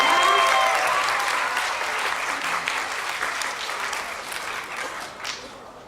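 Audience applause welcoming a physics lecturer to a public science talk on superconductivity, a steady dense clapping from a large indoor crowd that holds strong and slowly tapers off.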